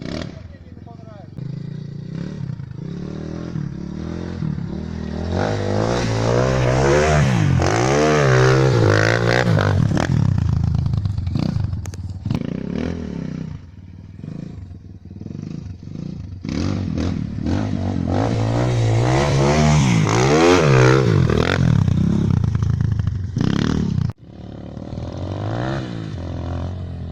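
A Minsk X250 enduro motorcycle revs and accelerates close by, its engine rising and falling through long pulls with rattling and scraping, a sudden drop near the end, and someone talking over the ride.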